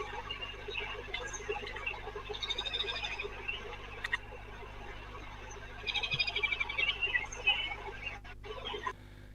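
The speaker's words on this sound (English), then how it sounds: "So you hear a lot of birds and stuff there." Scattered bird chirps and calls outdoors over a steady low idle from a parked car's running engine, with bursts of busier chirping.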